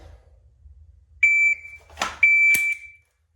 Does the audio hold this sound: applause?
no